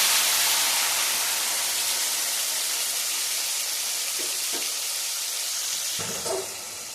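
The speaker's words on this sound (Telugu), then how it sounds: "నూనె బాగా హీట్ అయిన తర్వాత మనం ముందుగా తరిగి పెట్టుకున్నటువంటి పండు టమోటాస్ని ఆయిల్లో వేయాలి" Ripe chopped tomatoes go into well-heated oil for a tomato chutney, giving a steady, loud, broad hiss of frying with a few faint clinks near the end and no talking.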